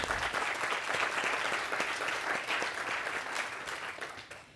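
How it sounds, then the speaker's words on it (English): An audience at a Santa Monica travel and tourism summit breaks into steady applause, many hands clapping in a dense, even wash that stays fairly loud before tapering off toward the end. "I think that deserves a round of applause."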